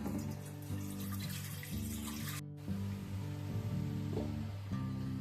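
A bowl of water is poured into a pan set on a gas stove, giving a steady splashing pour with a brief break partway, fairly quiet and alone.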